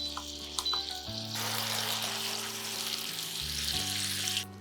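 Prawns for a pickle-style achari dish fry in a hot pan, giving a steady, close hiss of sizzling oil with a few light clinks near the start.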